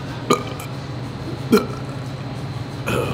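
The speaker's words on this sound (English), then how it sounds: "Oh, look at them belching." A person burps after drinking, with two short, abrupt belches about a second apart and a softer third at the end, close to the microphone over a low background hum.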